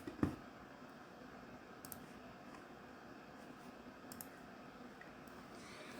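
A single computer mouse click to join an online meeting, a sharp near tick right at the start, followed by quiet room tone with a few faint ticks.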